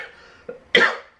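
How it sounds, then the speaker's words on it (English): Single close cough, preceded by a faint breathy throat sound, then a sharp burst that fades out within about half a second in a quiet room. "Coughing on me."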